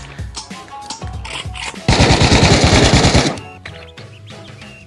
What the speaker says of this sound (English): Replace the mag, cock it, fire.